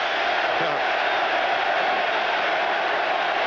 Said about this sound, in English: The crowd is chanting, "We want Perry."